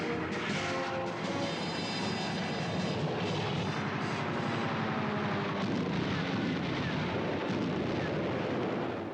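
German wartime aircraft drone overhead in a dense, continuous roar of engines, steady and loud throughout with rumbling blasts mixed in, like archival combat footage.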